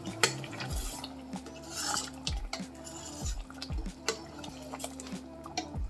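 A spoon stirs paneer butter masala curry in a pan, scraping and knocking against the metal in a repeated rhythm of about one stroke per second, each with a wet, thick slosh.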